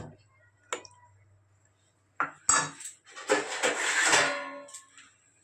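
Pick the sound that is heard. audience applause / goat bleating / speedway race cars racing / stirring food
stirring food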